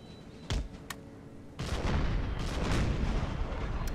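Cannon artillery fire during a battle against pirates in Empire: Total War, heard as a couple of sharp booms followed by a dense, sustained rumble of overlapping shots and impacts, with no talk.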